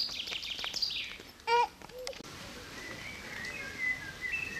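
Small birds chirp and tweet outdoors in quick high calls, a brief louder trill among them, then fainter scattered chirps over a soft background hiss.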